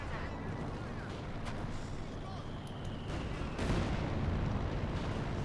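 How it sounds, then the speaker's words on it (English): A delayed-fuse artillery barrage in Company of Heroes 2, with Wehrmacht fighting Soviets: dull shell impacts and rumbling blasts through continuous battle noise that swells heavier near the end, partly under a commentator's talk. "Got another delayed fuse barrage here, but he's forced to retreat."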